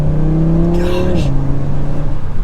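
A stock-exhaust 2024 Audi RS3 engine accelerating hard, its pitch climbing then dropping at a gear change, loud and close with a voice briefly over it.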